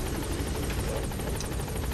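A helicopter in the video game Metal Gear Solid V: The Phantom Pain hovers with a steady, rapid rotor chop and engine whine at moderate volume, heard alone without speech.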